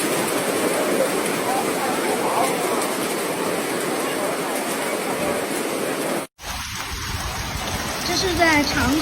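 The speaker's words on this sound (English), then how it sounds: "这是在长沙开福区下冰雹了，大家可以看一下啊，好大一个个的冰雹啊" Large hailstones pound down during an April storm in Changsha's Kaifu District, a dense, continuous hiss and clatter broken by a brief cut before resuming more quietly.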